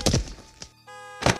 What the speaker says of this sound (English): She started to bang off what I assumed was the dashboard while making random noises for several minutes.